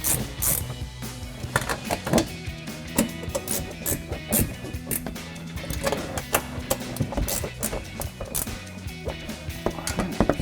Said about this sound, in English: grab our 15mm ratcheting wrench and tighten those down